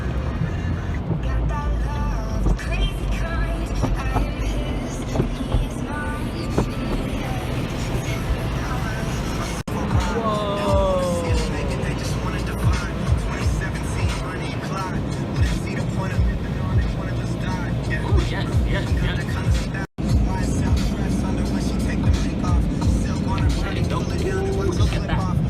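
An automatic car wash runs with a loud, steady mechanical roar and whooshing water and brushes, continuous throughout with a brief cut near the end; voices talk over it.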